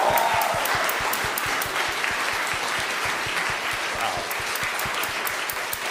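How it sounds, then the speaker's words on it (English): A church Christmas concert audience applauding, steady dense clapping from a large crowd held at an even level throughout. "a huge thank you and round of applause for our own Myron de Souza"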